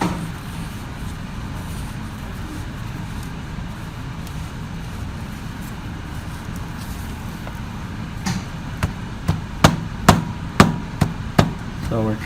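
Casting sand packed tightly around the teeth of a gear pattern half for a metal sand casting, at first only a low steady background rumble, then about eight sharp ramming thumps in an uneven rhythm near the end.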